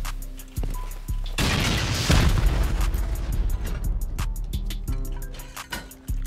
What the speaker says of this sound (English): We'll send a few rockets and then C4.